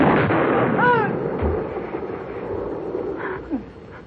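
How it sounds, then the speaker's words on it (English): A gunshot in a radio mystery drama, a loud boom with a reverberant tail that dies away slowly, with faint voice-like sounds near the start. "I told you I'd shoot."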